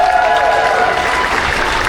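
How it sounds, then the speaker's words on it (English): A large crowd at the tenth-anniversary Jack Daniel's motorcycle ride in Lynchburg, Tennessee, claps and cheers loudly and continuously, a dense roar of hands and voices. "let's give yourselves a massive round of applause"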